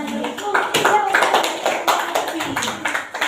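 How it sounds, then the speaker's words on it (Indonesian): A classroom of junior high students claps for a group after a maths lesson on congruence, a dense run of hand claps with talking mixed in throughout. "beri tepuk tangan kepada kelompok yang"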